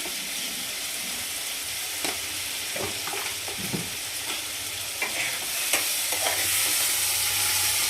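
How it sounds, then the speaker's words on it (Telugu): Chopped tomatoes with salt cook in a pan over a medium flame, a steady low sizzle and hiss running throughout, broken by a few scraping stirs, with no talking. "పెట్టుకొని ఒక ఫైవ్ మినిట్స్ టమాటాలు మంచిగా మగ్గించుకుందాం"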